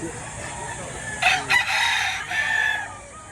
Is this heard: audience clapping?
no